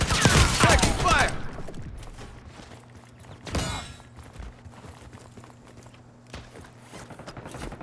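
Call of Duty gunfire opens with a dense, loud burst of rapid shots, falls away into quieter shuffling and movement, then another sharp volley fires near the middle, with faint mechanical noises trailing off.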